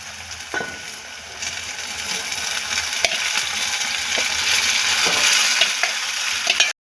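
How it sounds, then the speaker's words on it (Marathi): Cooked mutton is stirred into oily masala in a clay pot with a steel spoon, giving a steady close sizzle with occasional soft scraping clicks, alone and fairly loud throughout. "त्यासाठी तो हळू हलवायचा आहे जोरात नाही हलवायचा कारण की आपलं मातीचं भांडं आहे"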